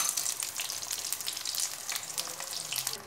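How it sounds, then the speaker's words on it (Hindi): Mini chicken samosas deep frying in hot oil over low heat, a dense, even bubbling sizzle with crackly high hiss, steady and close throughout with no speech. "तो चलिए अब इन्हें फ्राई होने देते हैं।"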